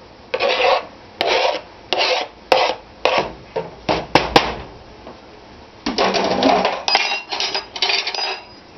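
Onions stirred in a pot for Cincinnati chili, a series of scraping, rasping strokes of a utensil against the pot in a regular rhythm with a few light clinks, close by and without talk.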